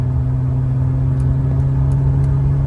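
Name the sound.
Volvo 960 engine at about 2,800 RPM in fifth gear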